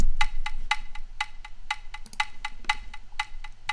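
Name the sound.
percussion sound before automation, Ableton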